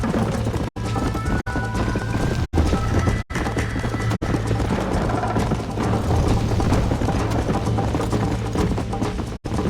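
Rapid hoofbeats of a galloping horse in Red Dead Redemption, the Western video game, pound steadily up close for several seconds, broken by a few brief dropouts, with faint mechanical clicking mixed into the game audio.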